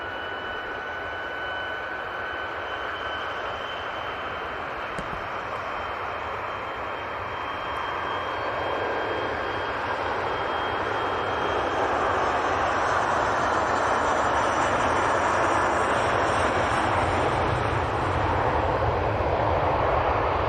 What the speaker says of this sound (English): Legacy 600 looking stunning